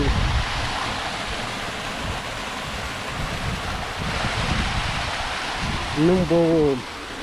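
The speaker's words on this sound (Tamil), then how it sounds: "தண்ணி வந்து ஊற்றுறதே அழகாக இருக்குது." Water pours steadily over the Wadi Kharar waterfall near Mecca, a broad continuous rush with some wind buffeting, and a voice speaks briefly near the end.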